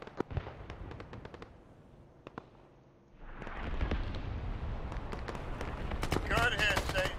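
Bombs from an air drop exploding in the military game ARMA 3: scattered sharp cracks, then a loud rolling blast that swells into a sustained rumbling roar; radio voices talk over it.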